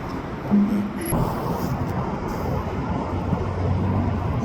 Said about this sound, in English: There's a Mark V train going eastbound.